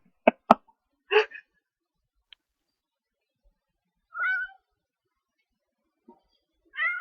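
A cat meows several times in a quiet room, short separate calls spaced a second or two apart, near and clear with silence between them.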